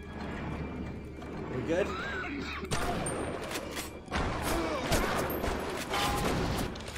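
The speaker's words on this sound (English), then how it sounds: "Oh, there's another turret there." Automatic turret gunfire in the BioShock Remastered game, bursts of rapid shots and mechanical clatter running throughout over dense game noise, with a player briefly talking.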